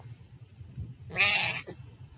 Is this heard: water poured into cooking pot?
no